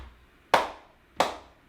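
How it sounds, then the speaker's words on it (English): Two sharp, close hand claps about two-thirds of a second apart during a Parkinson's fall-prevention and balance exercise class, each with a short decaying ring in a quiet room, no voices. "Claps."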